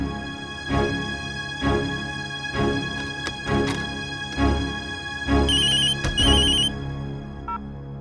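A phone ringtone plays a repeating musical pattern, loud and close, with rhythmic beats and bright chiming tones cycling several times.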